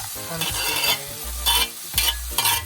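Onions and scotch bonnet pepper fry in a pan, a steady sizzle with several louder bursts as they are stirred, close and alone with no talking.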